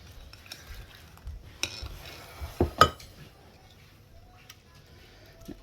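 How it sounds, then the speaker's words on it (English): A spoon scraping and stirring a thick breakfast bake batter with rhubarb in a bowl, quiet soft scrapes with a couple of louder clinks near the middle, otherwise fairly hushed. "I'm just gonna mix this all over here."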